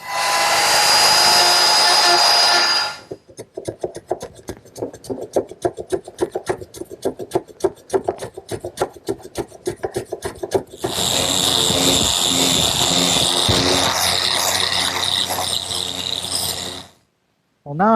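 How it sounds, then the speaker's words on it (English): Router fitted with a 3/4-inch round-over bit shapes wood: a loud steady whine for a few seconds, then a stretch of rapid rattling, clicking strokes, then another sustained loud whine that cuts off near the end. "a 3/4-inch round over bit set up in my router makes this step a lot easier"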